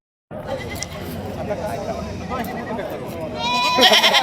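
A busy goat and sheep market at Mahud, with goats bleating amid a dense crowd murmur and nearby voices talking, the bleats rising louder toward the end.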